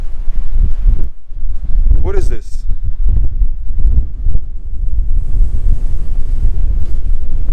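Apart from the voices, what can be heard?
strong wind in the desert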